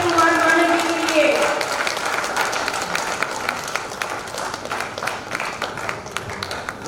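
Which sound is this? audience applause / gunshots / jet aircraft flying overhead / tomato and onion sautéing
audience applause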